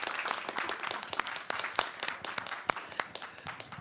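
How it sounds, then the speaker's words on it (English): A small audience claps at a climate policy panel launch in the COP28 Indigenous Peoples Pavilion, producing a brisk, uneven patter of individual hand claps heard close and fairly light throughout. "let's please clap"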